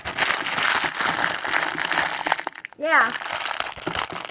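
Plastic packet of a small LEGO Ninjago set crinkling and rustling steadily up close, with someone talking briefly over the handling noise.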